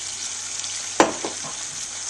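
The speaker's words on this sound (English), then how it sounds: "I'm going to put in a good-sized splash of this Madeira wine" Madeira wine splashes into a hot pan, and a sharp hiss bursts up as it hits, then settles back to a steady frying sizzle with a few smaller crackles trailing after. Nobody speaks.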